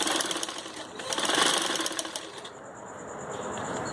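A sewing machine runs in a short burst stitching a round seam in turban fabric, a fast, buzzy mechanical whir that stops, leaving a thin high electrical whine.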